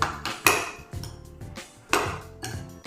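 A spoon clinks and scrapes against a bowl while watermelon seeds and oats are mixed together. Two sharp clacks stand out among softer, repeated scraping strokes, close and clear, with no talking.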